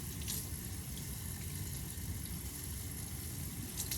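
Running tap water splashes steadily over rinsing hands at a sink, a continuous broadband wash that holds nearly level for the whole stretch with no talking.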